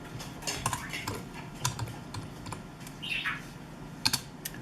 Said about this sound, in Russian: Печатаем.